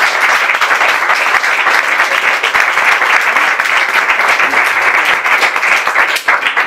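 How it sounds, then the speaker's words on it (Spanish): An audience at an evening talk claps steadily for a poet being introduced; the applause is loud, even and sustained, with no voices. "Os pido un aplauso."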